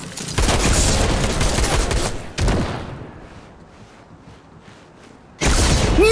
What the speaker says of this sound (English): he shot it between your legs